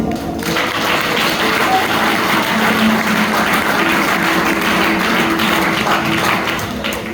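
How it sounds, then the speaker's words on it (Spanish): Congregation in a church breaking into sustained applause during an evangelical sermon, a dense steady wash of clapping that fills the room and holds for several seconds, with some voices mixed in. "Aplausos al Señor ahí."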